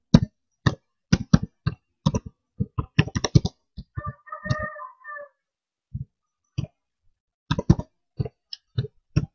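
Sharp keystrokes patter across a computer keyboard in quick bursts with short pauses, close and distinct, while a brief high-pitched cat meow cuts in partway through.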